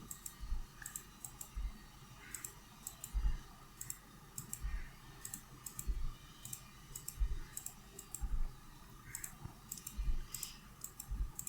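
A computer mouse clicks steadily during retopology work in Blender, with quick paired clicks recurring every second or so, close and fairly quiet, with light low thumps between them and no talking.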